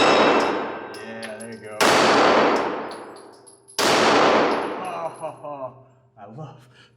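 A handgun with silencer-ready sights fires two sharp shots, each followed by a long ringing clang from a struck steel target, with a person speaking briefly between them.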